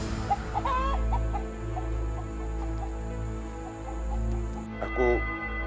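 A chicken clucks several times in short bursts over a low background rumble, with a higher squawk near the end.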